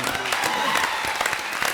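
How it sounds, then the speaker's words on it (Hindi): A studio audience at a comedy show gives another round of loud applause after an act earns a standing ovation, a thick wash of many hands clapping together, fairly distant, with voices underneath. "एक बार फिर जोरदार तालियां।"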